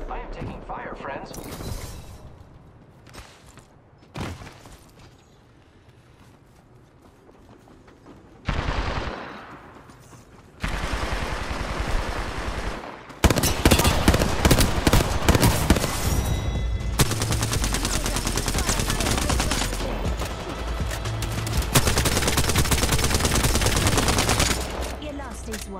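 Bursts of rapid automatic gunfire and single shots in an Apex Legends Season 7 match, starting sparse and faint, then turning into long, loud, dense volleys that continue almost without pause.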